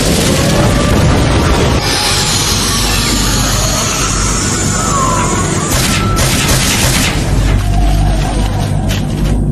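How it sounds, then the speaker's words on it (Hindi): Fire style flame bombs from a Naruto anime fight erupt in a loud, sustained roar of booming blasts and crashing rumble, layered with whooshing effects and continuous from start to finish. "Fire style flame bombs!"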